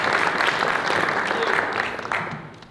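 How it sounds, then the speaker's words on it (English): A large audience at an evening event applauds steadily, dense clapping that stays full and then thins slightly toward the end, a voice faintly mixed in. "A big round of applause for Anat."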